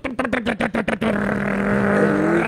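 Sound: voice imitating a cold motorcycle trying to start, then catching

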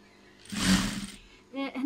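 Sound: sewing machine stitching fabric about one centimetre from edge

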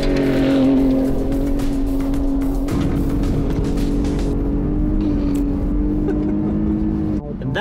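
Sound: truck with camper driving fast off-road

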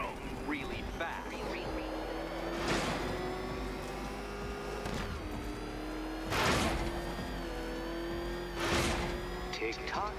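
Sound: Batmobile engine revving and racing in Batman: Arkham Knight video game

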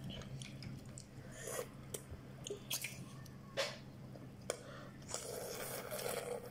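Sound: eating spicy noodles

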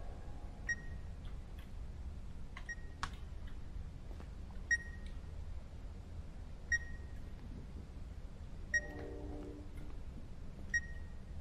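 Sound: beeping sound in The Beast Inside 2 video game

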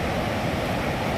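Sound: waterfall at Datam Patam, Latehar

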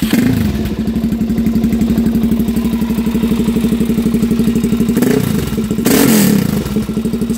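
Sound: motorcycle aftermarket exhaust revving

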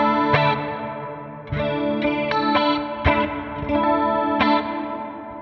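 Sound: Line 6 Helix Dynamic Hall stereo reverb on guitar

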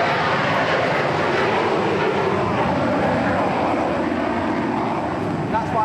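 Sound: military aircraft noise over RAF Brize Norton runway

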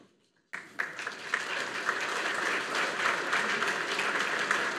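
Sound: audience applause welcoming a speaker

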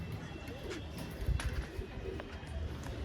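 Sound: pigeons cooing

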